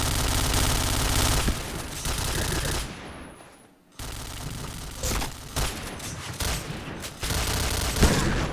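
Gunfire fills a PointBlank match: dense, loud bursts of automatic weapons, a brief lull, then renewed rapid fire and shots, with no talking heard.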